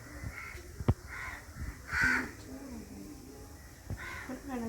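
A few harsh crow caws ring out near and far, separated by short pauses, over light outdoor background noise.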